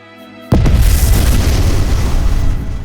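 A wartime bombing blast erupts after a brief quiet tone, a loud, deep boom that rolls on as a sustained rumbling roar, with no voices.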